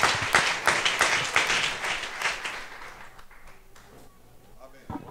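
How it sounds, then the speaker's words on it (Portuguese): A congregation in a small, humble church applauds with dense, rhythmic clapping that fades out after about three seconds, followed by quieter room sounds and faint speech. "Dê uma salva de palmas"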